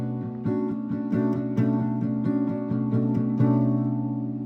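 An acoustic guitar rings out a chord shaped 0 5 4 0 0 0, strummed steadily in a repeating rhythm with clear sustained notes, close and moderately loud with no talking.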